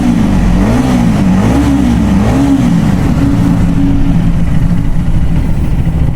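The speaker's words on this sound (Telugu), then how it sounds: "ఆ ఇంజన్ బ్రేకింగ్ మాత్రం క్రేజీ అంటే క్రేజీ" A 2026 KTM Duke Gen 3 motorcycle engine braking: a loud, close engine note whose pitch wavers and falls in steps over about four seconds, then settles into a lower, rougher running sound.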